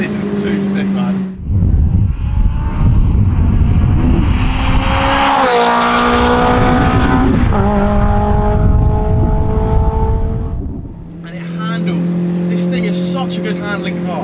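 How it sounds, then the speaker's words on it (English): A Toyota MR2 with a swapped 2ZZ high-revving engine, driven on a track, roars loudly and close, climbing steadily to a screaming high rev before gear shifts drop the pitch and it pulls up again; a voice talks briefly near the end. "You've got an insanely high revving engine."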